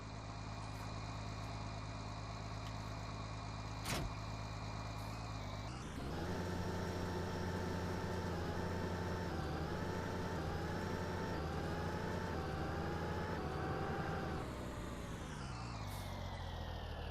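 Steady tractor engine drone from Farming Simulator 19, a low idling hum that rises in pitch and grows busier midway as revs climb, then settles back, running alone and continuous.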